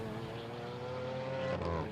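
A Lamborghini Aventador Huber ERA 001 at full throttle, its engine howling steadily from a distance with a sustained tonal drone that rises slightly in pitch near the end.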